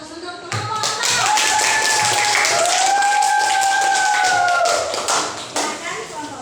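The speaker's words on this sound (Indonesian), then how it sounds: "Silakan berikan aplaus untuk kelompok 4" Students and teacher in a grade 9 junior high school classroom applaud group 4, a dense, steady burst of clapping lasting several seconds before tapering off.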